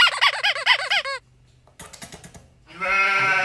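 A pet parrot being fed cabbage gives loud, rapid, warbling squawks for about a second, then a short pause, scattered clicks and rustles, and finally a sustained, harsh nasal call near the microphone.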